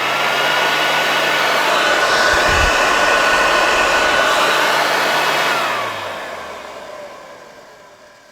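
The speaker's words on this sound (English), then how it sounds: "the motor on that doesn't sound too bad, to be honest" An Electrolux Sanitaire vacuum cleaner, dusty and awaiting refurbishment, runs with a loud, steady motor whir for several seconds, then winds down and fades toward the end; no one speaks.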